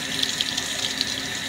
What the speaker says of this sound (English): Wash the basil with cold water, and after you wash it, just put the leaves in there